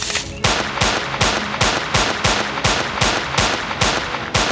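Rapid gunfire in a sci-fi action scene, aimed at an android, sounds as evenly spaced loud shots, about two per second, with sharp cracks and ringing tails, close and continuous, with no talking.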